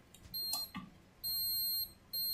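A fire alarm control panel sounds, giving steady high electronic beeping tones in sustained pulses after a few brief clicks, fairly faint in a quiet room.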